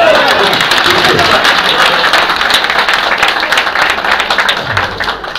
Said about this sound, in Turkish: son alkış aldım